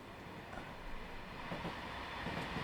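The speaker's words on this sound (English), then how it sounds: "That's a train." A train rolls past in Train Sim World 5 on the West Somerset line, a faint, steady rumbling wash of rail noise heard from a distance without any speech.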